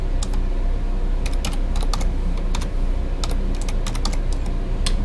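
Typing on a computer keyboard while entering coordinate points for drawing the S in SHSU initials: clusters of crisp key clicks in irregular bursts, close and steady over a low hum, with no voices.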